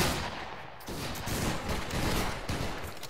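A line of muskets fires a volley in the video game Battle Grounds III, a dense ragged crackle of overlapping shots that rolls on for several seconds, loud and close.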